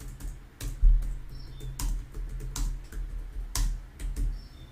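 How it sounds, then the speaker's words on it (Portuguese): Someone types an answer on a computer keyboard: a quick, irregular run of close, crisp key clicks and taps over a quiet room, with no speech. "Vou digitar a minha resposta."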